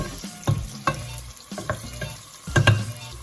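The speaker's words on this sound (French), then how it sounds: "Là, on fait revenir l'oignon." Onion sizzles in a pan while it is stirred, with a few firm scrapes and knocks of the spoon over a steady close frying sound, cooked as the base of a chicken tchep.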